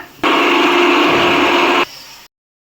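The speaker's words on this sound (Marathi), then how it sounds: "हे बारीक करून घ्यायचं आपल्याला मिक्सरला" A mixer grinder grinding chilies, garlic and cumin whirs loudly for about one and a half seconds, then winds down briefly and stops, leaving silence.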